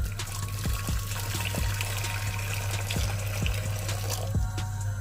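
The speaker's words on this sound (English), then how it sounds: "we're gonna add some boiling water to our saucepan." Boiling water pours and trickles into a saucepan on a stove over a low steady hum, with a few light clinks, close by.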